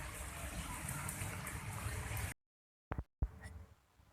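Heavy rain pouring at an old cemetery museum, Taman Prasasti in Kebon Jahe Kober, a dense steady wash of hiss and splatter that cuts out abruptly, then returns more faintly after a couple of brief knocks.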